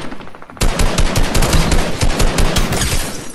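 Rapid bursts of automatic gunfire from players in Fortnite, loud and close, a dense fusillade of repeated shots running for about three seconds after a short quiet start.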